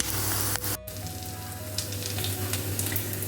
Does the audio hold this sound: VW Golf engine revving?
no